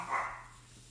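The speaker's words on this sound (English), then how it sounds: "Yep, there goes my dog barking." A dog barks once in a home, a single short, muffled bark heard at some distance indoors that quickly fades into quiet room tone.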